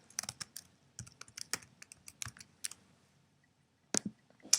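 Rapid bursts of computer keyboard typing as a page template name is entered, close and clear clicks in uneven clusters with a short pause before a final few keystrokes.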